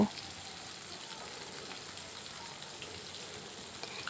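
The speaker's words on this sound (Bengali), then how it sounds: "আমি কিন্তু লাল লাল করে মাছের পিসগুলো ভেজে নেব" Fish pieces frying in a pan, a soft, steady crackle and hiss that runs evenly throughout, faint and close with no talking.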